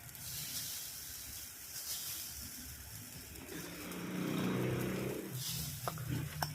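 Rava uttapam batter sizzles on a hot, oiled pan, a steady hiss that swells louder midway and carries on with no talking.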